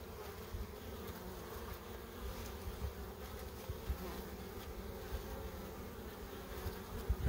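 Honey bees return to their hive in February carrying pollen, making a dense, steady buzzing drone close by that holds its level throughout with no voices.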